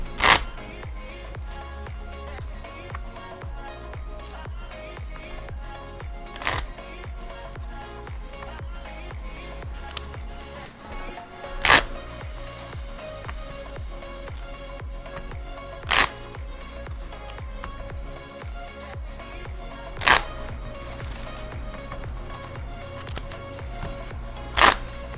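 A deck of Middle Earth CCG cards is shuffled by hand at a table, with soft riffling textures and a few sharp snaps or taps spaced several seconds apart, close and quiet with no talk.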